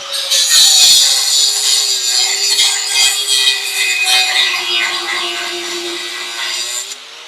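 A cheap $14 angle grinder with a $2 cutoff wheel cuts metal, a loud, close, steady high-pitched whine with rasping grind that holds for several seconds before easing off.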